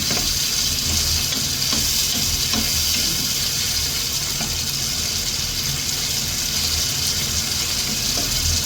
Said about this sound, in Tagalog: Magigisa ako ng kamatis